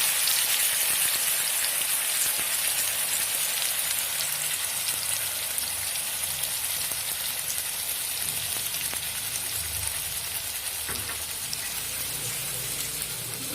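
Fenugreek leaves, spinach and ginger-green chili paste fry in ghee, producing a dense, even hiss like steady rain that holds for the whole stretch, close and fairly loud, with no talking.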